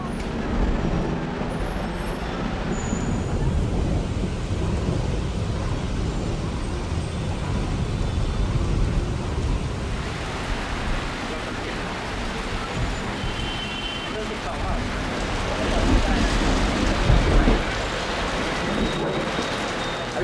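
A heavy rain shower hammers down in Bangkok with thunder rumbling, a dense continuous roar of rain mixed with passing street traffic, loud and close throughout.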